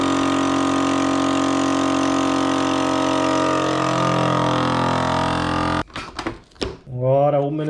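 A vacuum sealer hums loudly and steadily as it evacuates and seals a sous vide bag, pitch shifting slightly, then cuts off abruptly; a voice speaks briefly afterward.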